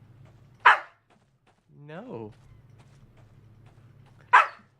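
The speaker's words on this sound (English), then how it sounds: "I hope your barking's not going for the mic, because that'd be annoying to people." A dog gives two sharp, close barks a few seconds apart with a brief whine between them, and someone speaks a single word.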